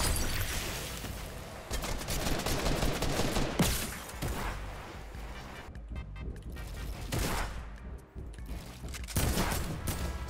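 AK rifle gunfire in a battle-royale shooter game, dense bursts of rapid shots over about ten seconds, loud and close with brief pauses between volleys and a busy game mix underneath.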